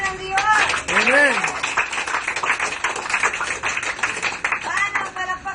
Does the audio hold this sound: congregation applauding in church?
yes